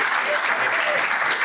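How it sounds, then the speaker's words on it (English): Brief, dense burst of applause from an awards-event crowd honouring an organiser named Jason, loud and sustained with voices mixed in beneath the clapping. "a round of applause for all of his hard work making this year and the previous years happen"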